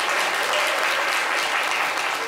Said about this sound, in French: Est-ce qu'on peut applaudir Igor bien fort?